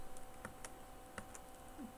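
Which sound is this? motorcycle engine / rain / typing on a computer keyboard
typing on a computer keyboard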